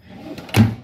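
A drawer in a 2013 Eagle 27.5BHS RV slides and knocks shut with one short, close thump after a faint rustle.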